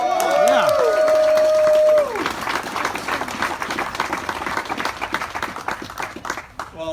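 Applause and cheering from an audience at an event with the Secretary of Veterans Affairs: a whoop and a voice ring out first, then a dense wash of many hands clapping that fades toward the end.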